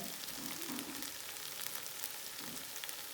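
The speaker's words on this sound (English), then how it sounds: "Give it a nice stir around" Vegetables and corn sizzle and crackle in a hot pan for a Thai spicy curry, with a steady close frying hiss and some soft stirring scrapes throughout.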